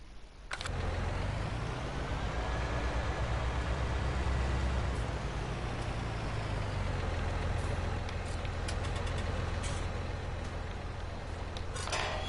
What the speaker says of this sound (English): Quite a lot of weight on the front of this tractor.